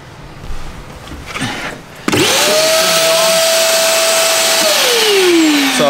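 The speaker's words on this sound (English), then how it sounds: "I use this sort of, it's like a vacuum cleaner only for water." A wet vacuum used for water starts up abruptly and runs as a loud, steady whine with a rising and then falling tone while sucking water out of a boat being winterized in Norway.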